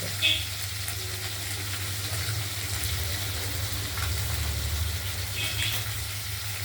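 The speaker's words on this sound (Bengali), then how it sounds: "মাছগুলো অনেকটাই ভাজা হয়ে গেছে" Pieces of katla fish fry in a pan with a continuous, even sizzle close by, a low hum running underneath and a couple of faint clinks, with no talking.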